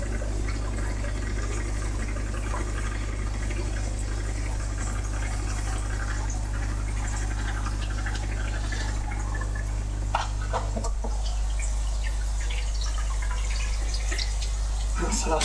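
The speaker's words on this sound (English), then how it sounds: "That's the last bit just draining out." Water drains steadily out of a koi pond grow-on tank, a continuous loud rushing wash with a low steady hum underneath and a brief shift partway through.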